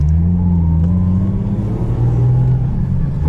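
A Nissan Skyline R34 drift car's engine runs loud and close at a track day, a steady heavy rumble with slight rises in revs throughout, no talk over it.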